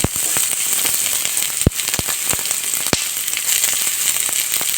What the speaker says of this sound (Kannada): ಈಗ ಈರುಳ್ಳಿ ಹಾಕ್ತೀನಿ.